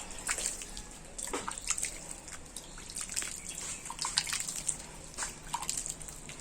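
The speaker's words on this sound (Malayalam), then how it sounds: "ഇനി നമുക്ക് ഇതില് നിറച്ച് വെള്ളം ഒഴിച്ചു കൊടുക്കണ്ട, കുറച്ചൊന്ന് തളിച്ചു കൊടുക്കാം." Water sprinkled by hand onto a newly planted potted plant, soil already damp from rain; light scattered drips and patters land in quick irregular bursts, close and fairly soft, with no talk.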